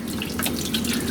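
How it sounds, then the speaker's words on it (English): A sink tap runs water over wet hands, a steady close splashing stream with faint dripping and no speech. "I'm going to turn the sink on, okay. I'm going to get my hands wet first"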